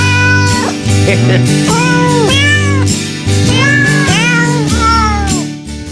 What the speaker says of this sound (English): It's actual meows.